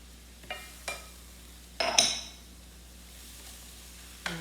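Salsa added to a pan of cooking rice and lentils for a burrito bowl, a few soft clinks and a brief wet sizzle and scrape of stirring, faint and close.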